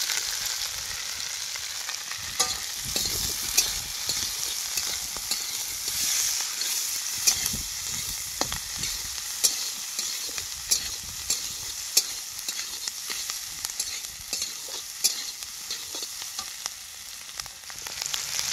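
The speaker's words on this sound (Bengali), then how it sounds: "তো আমার পেঁয়াজ ক্যাপসিকাম হালকা করে ভাজা হয়ে গেছে" Onion and capsicum frying in a pan, a continuous close sizzle with repeated scraping and stirring taps at irregular intervals, no talking.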